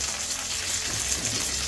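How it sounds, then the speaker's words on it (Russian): Vegetables and bones frying in a pan for sauce, a steady close sizzle that holds without a break, with no voices. "где у меня уже жарятся овощи с костями для соуса и кипит вода для брюссельской капусты"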